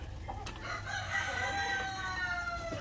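Black Australorp chickens on a farm during feeding, with a rooster crowing prominently over soft clucking nearby, then trailing off.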